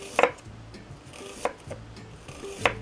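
A knife slicing garlic very thinly on a cutting board, three soft crisp taps spaced about a second apart, quiet and close with no talking.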